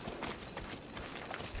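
Horse hooves clip-clopping at a steady run in the Assassin's Creed Odyssey video game, a rapid repeated patter heard close against a continuous game ambience.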